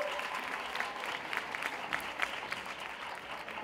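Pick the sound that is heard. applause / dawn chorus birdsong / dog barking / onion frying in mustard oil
applause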